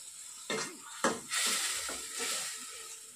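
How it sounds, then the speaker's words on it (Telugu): Onion paste is stirred into a pan of sizzling aloo potol curry, with scraping spoon strokes and clinks over a steady, quiet sizzle. "మొత్తం ఒకసారి బాగా కలుపుకుందాం."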